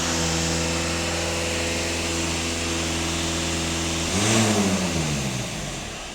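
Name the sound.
diesel car engine revving higher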